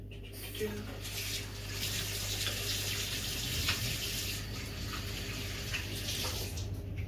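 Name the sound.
washing hands under running tap water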